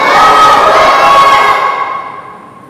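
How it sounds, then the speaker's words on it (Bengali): A large crowd at a religious sermon chanting takbir (Allahu Akbar) loudly in unison, one sustained roar of many voices that holds and then fades away toward the end. "যে জোরে আপনার তাকবীর দিচ্ছেন"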